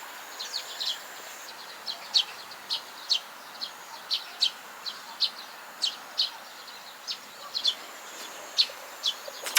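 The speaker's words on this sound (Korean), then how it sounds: "딱따구리다" Woodpecker in the countryside: a steady series of sharp, bright taps repeating at a regular rhythm over about ten seconds, moderately distant, over a quiet outdoor background.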